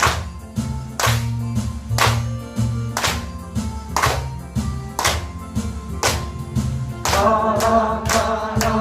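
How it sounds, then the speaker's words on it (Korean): A church congregation claps in rhythm along with an upbeat closing hymn, regular sharp beats landing about once a second over a steady bass and keyboard accompaniment, with no voices standing out. "세상에는 박수 치면서 찬송하겠습니다."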